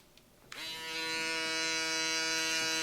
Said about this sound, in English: use our UV foil shaver